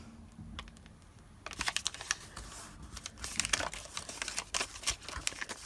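Paper folded by hand into a junk journal embellishment, producing close crinkling and rustling with soft taps and creases, starting after a quiet moment and continuing in irregular bursts.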